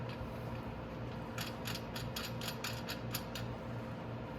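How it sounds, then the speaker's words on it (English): An axle nut is being tightened on a Venom Mini Jeep 125cc, a run of quick metallic ratcheting clicks over a steady background hum, close and with no voices. "And then you just have to tighten it up"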